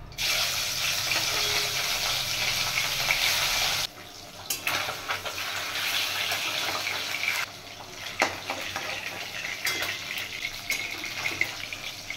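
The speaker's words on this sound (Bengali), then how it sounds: "মাছগুলো কড়া ভাজবো না।" Pieces of katla fish fry in hot oil for a Bengali fish curry, producing a loud, dense, continuous sizzle that drops briefly twice and then resumes, with faint crackles throughout.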